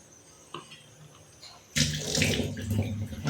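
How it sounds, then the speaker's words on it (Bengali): Jackfruit seeds are rinsed under a running kitchen tap: a faint trickle first, then a sudden strong gush of water splashing over the seeds for the rest, close and loud. "কলার তলায় একটুকু ধুয়ে নেব।"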